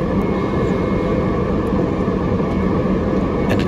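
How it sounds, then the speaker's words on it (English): A private jet crabbing into a gusty wind on approach to runway 27 at Heraklion, Crete, heard from inside as a steady, loud engine and airflow roar that holds without a break throughout. "the nose of the airplane pointing into the wind as we're crabbing down towards runway 27"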